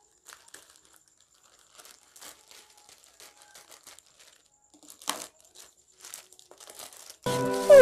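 Thin plastic bag packaging around an iPad cover crinkles and tears as it is opened, light close rustles building to a louder burst at the end.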